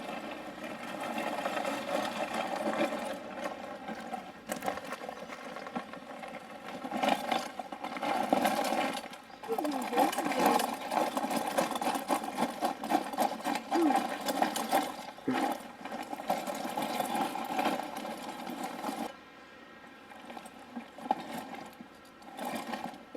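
A radio-controlled powered lawn mower runs with a steady buzzing engine drone that rises and dips as it drives forward and turns, continuous and fairly close throughout.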